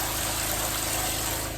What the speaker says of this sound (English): Look at that shower pressure.